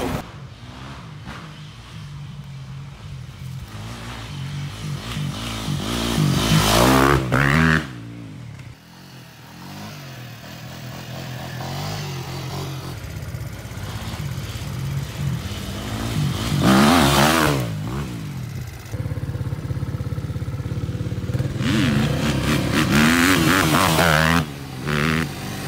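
A 125cc motorcycle being ridden, its engine droning steadily with several rising revs and gear changes, close and fairly loud, with wind buffeting over the mic.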